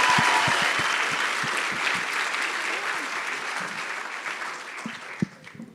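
An audience at a national grand final of a youth competition cheers and applauds in a dense, steady wash of clapping that gradually thins and fades toward the end.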